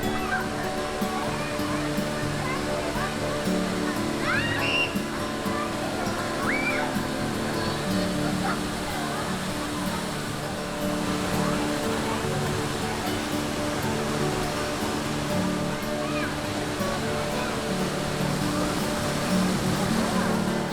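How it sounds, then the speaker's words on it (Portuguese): A busy waterfall, Cachoeira Vale das Borboletas near São Thomé das Letras, gives a constant broadband roar of falling water, with faint crowd voices and chatter mixed into the steady rush throughout. "Essa é a cachoeira mais próxima da cidade e por isso estava muito cheia, mesmo em uma segunda-feira"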